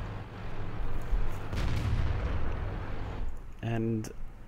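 T-54 tank main gun firing in the World of Tanks video game, a deep booming shot with a rumbling tail under ongoing battle noise, followed by a game tone; someone talks over it.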